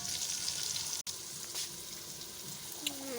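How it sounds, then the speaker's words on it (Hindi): Spices frying in a pan for eggplant bharta give a steady, close sizzle with soft crackle, broken by one brief gap near the start, and a faint tap-like hiss running underneath. "अब इसके अंदर हम मसाले भी ऐड कर रहे हैं।"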